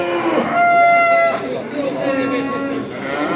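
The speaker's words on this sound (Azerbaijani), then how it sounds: "Bax belə kəsimə gedən danalar." Calves bound for slaughter moo at a livestock market in Barda, one drawn-out low call up close followed by another, with people talking over the lowing and market noise.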